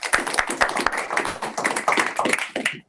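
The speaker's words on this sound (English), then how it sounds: "So can we give Grant a round of applause?" A small audience claps for a person in a room, a close, uneven burst of individual hand claps lasting about three seconds before stopping abruptly.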